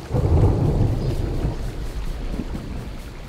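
Thunder rolls low and heavy during a rainstorm in the video game Smalland, a deep rumble that swells early and then fades beneath steady rain hiss, with no voices.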